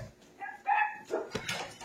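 A dog gives a few faint, short barks and yips from somewhere off in a home kitchen, brief and quiet bursts with no talking over them.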